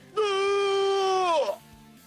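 A single strained, moaning video game grunt, held for about a second and then dropping off abruptly, heard alone.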